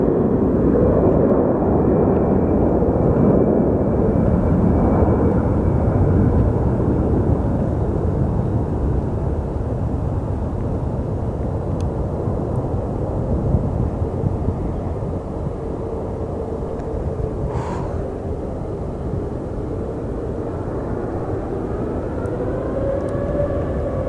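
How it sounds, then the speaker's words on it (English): An Airbus A321neo jet departing Phoenix Sky Harbor Airport for Boston, a loud, steady broadband engine roar that holds throughout, with no voices. "And this is our flight to Boston that's departing. It's an A321neo."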